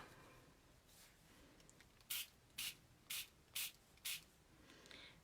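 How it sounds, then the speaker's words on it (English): A small handheld spritzer mists water onto a card, five quick sharp hissing spray bursts in close succession, near and clear over quiet background. "I don't want to spray too much on there"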